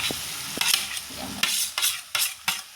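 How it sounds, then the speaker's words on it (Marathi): Mashed potato stirred into spiced masala in a hot pan for vada pav filling, with soft frying sizzle and several distinct scraping stirs of the spoon, close and fairly loud with no talk. "आता आपण यात घालणार आहोत हा मॅश केलेला बटाटा"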